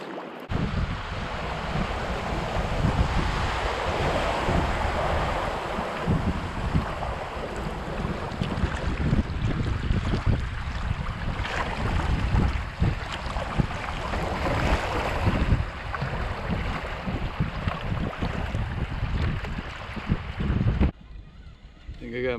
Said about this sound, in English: I gotta run some rapids, so I'll let you watch.